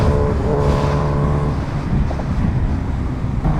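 Kawasaki Ninja H2R supercharged motorcycle on a road, its engine roaring loud and close at full power in one sustained rising drone, with heavy wind buffeting the microphone.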